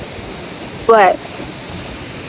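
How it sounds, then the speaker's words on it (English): A waterfall rushes with a steady, even hiss, filling the whole clip at close range while a voice briefly says a single word. "we're heading to a waterfall. Actually, we're already here."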